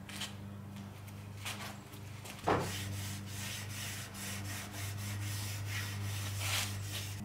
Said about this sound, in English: Just going to use a bit of metho and a rag.